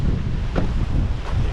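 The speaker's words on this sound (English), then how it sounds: "Just the wind's blowing 40 to 45 knots sustained now, and some gusts that are pushing 50" Strong hurricane wind buffets the microphone in sustained roaring gusts at a flooded boat dock in the Florida Keys, with boats rocking nearby; the rumble swells and dips continuously with no voices.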